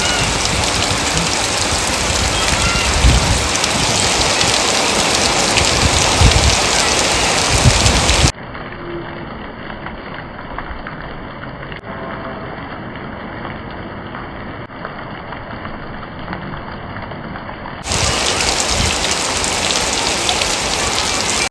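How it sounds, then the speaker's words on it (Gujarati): Heavy rain pours down in a village, a dense, steady hiss of drops beating on surfaces that continues without pause, briefly sounding duller and more muffled in the middle before returning at full strength. "આજે જરૂર હતો ને એટલો વરસાદ આવી ગયો"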